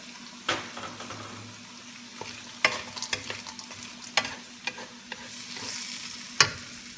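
Mixed vegetables stir-fried for Japanese fried rice, a low sizzle under irregular scrapes and clacks of a utensil against the pan, close and moderately loud, with no speech.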